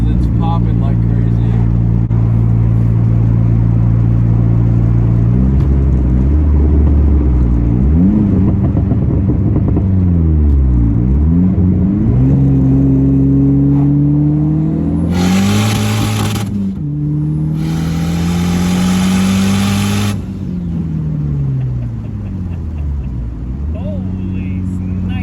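A 400 hp big-turbo SRT4 engine pops and crackles loudly beneath an overpass, with long sustained revving and gear changes, sharp bursts of exhaust crackle standing out midway; people talk over it.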